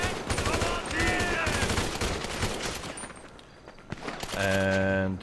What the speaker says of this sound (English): this assault rifle has quite the extended clip